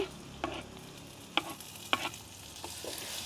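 Onions and chopped tomatoes fry in a pan for a Jaffna-style dish with Maldive fish sambal, a faint sizzle underneath a few distinct spoon clinks and scrapes as the mixture is stirred.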